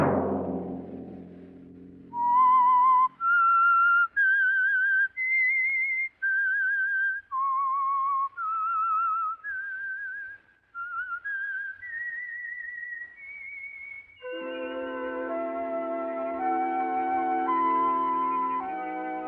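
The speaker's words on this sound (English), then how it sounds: "Let that whistle be your signal for the Signal Oil program, The Whistler" A radio program's signature whistled theme: one melodic whistle rising and falling through a sequence of sustained notes, clear and alone, then giving way to a swell of orchestral music.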